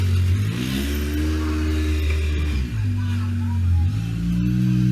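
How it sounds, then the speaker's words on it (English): Polaris off-road vehicle revving and easing off as it rides around outdoors, a steady droning engine note rising and falling in pitch, heard at a moderate distance. "You can hear my wife and youngin out in the background riding their Polaris."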